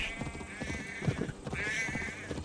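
A sheep in Assassin's Creed Valhalla bleats after being kicked, two short wavering cries standing out over low game ambience and faint footsteps.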